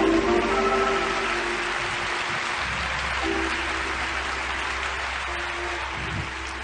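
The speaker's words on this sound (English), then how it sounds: "Why don't we give HDR a round of applause?" An audience at a church service applauds after a call for a round of applause, a steady wash of clapping that holds for several seconds with a low hum underneath.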